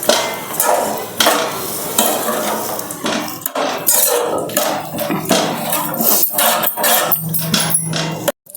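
Curd is stirred into cooked amaranth greens in a metal pot, with repeated close scraping and clinking spoon strokes at an uneven rhythm, loud and continuous until a sudden stop.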